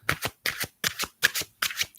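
A deck of cards being shuffled at close range in five quick riffling bursts, each a pair of crisp, fluttering flicks with short pauses between, heard alone without talk.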